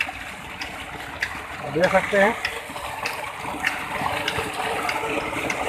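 Water gushes steadily from a 6-inch, 15hp solar-powered tubewell running on 16 solar panels in Pakistan, a constant rushing wash beneath someone talking.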